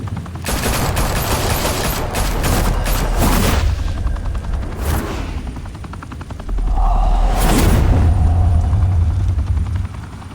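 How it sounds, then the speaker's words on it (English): Gunfire in the Batman Telltale Series video game: dense bursts of automatic fire and sharp shots layered over a loud, steady rumble like a helicopter, with the volume surging again partway through. "Now we only have to take one of you down. Open fire!"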